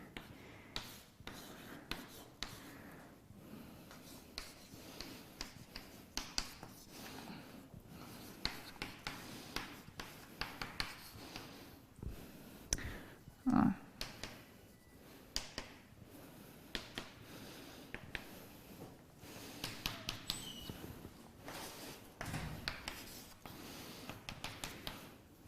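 Chalk or a marker scratches and taps on a board as math is written during a university lecture on elliptic curves, sounding as faint, irregular strokes with occasional sharper knocks in a quiet room.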